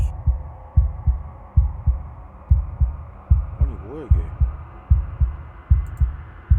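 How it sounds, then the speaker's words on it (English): A wooden, fleshy heart beats in Slay the Princess with a steady, unbroken rhythm of deep, loud thumps, about one every 0.8 seconds. A voice speaks briefly over the pulse partway through. "At the center of it all is the princess, a wooden and fleshy heart beating with an unbroken rhythm"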